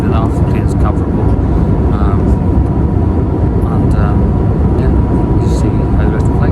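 Steady, loud broadband drone of an Aer Lingus airliner cabin in flight from Dublin to Washington Dulles, continuous throughout with faint voices murmuring underneath.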